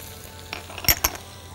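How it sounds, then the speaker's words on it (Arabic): Onion, garlic and chili sauté in a pan, a faint, soft sizzle broken by a few sharp clinks and scrapes of a utensil stirring against the pan. "وبنشوحهم على النار مع بعض"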